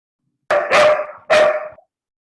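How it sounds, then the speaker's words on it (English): A pet dog barks two loud, close barks indoors, the first doubled into a quick pair, followed by silence. "I'm so sorry, that's my dog."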